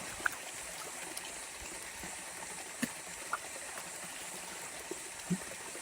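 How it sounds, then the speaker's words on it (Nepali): A small, very cold mountain stream on the Mardi Himal trek in Nepal runs with a steady, soft broadband wash, faint and continuous throughout, with a few light splashes and ticks over it. "यहाँ चाहिँ एउटा सानो खोला छ है, सानो खोला छ"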